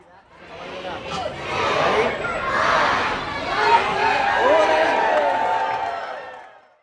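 Large outdoor crowd gathered on Allen Street in State College for the Light Up the Night holiday tree lighting, a steady hubbub of chatter and scattered cheers and claps, dense and close, with music faintly mixed in.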